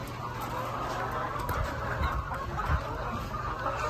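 Chickens on a village poultry farm cluck and mutter steadily at close range, with a low background hum and no voices.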